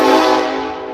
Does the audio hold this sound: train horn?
yes